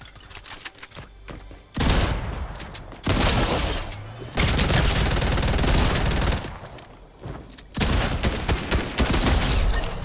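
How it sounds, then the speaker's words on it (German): Gunfire in the Fortnite game hammers into a wall in three long, loud, rapid bursts separated by short pauses, close and dense, with no talking over it. "Ja, schieß die Wand an."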